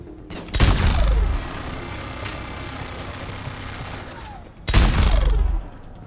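Two booming gunfire blasts in the video game Mass Effect 3, spaced about four seconds apart, each loud and rumbling with a lingering tail, and a softer mechanical hum between them.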